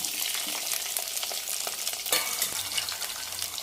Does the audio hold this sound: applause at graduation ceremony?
no